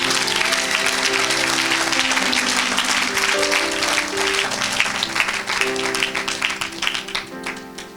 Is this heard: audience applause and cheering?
yes